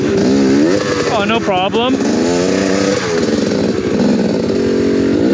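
A BBR KLX170RF dirt bike revs hard on a snowy winter trail climb, its engine droning loud and steady with rising pitch sweeps as the rear wheel spins, with people talking over it throughout.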